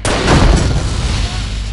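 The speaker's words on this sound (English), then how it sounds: "Explosion time." A loud explosion in The Godfather PC video game, a sharp boom that rolls into a rumbling, crackling tail of fire and debris lasting under two seconds.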